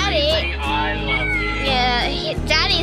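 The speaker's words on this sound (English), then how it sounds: "he's been meowing so many times" A kitten meows repeatedly up close, loud rising and falling cries in quick succession, over a low steady background hum.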